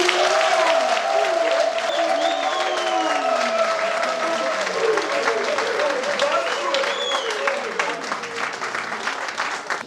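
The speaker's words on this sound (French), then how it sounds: "je voudrais simplement vous traduire ma reconnaissance et vous demander de vous applaudir vous-même" A large crowd claps loudly and steadily at an election results proclamation in Congo, with voices shouting and singing throughout the sustained applause.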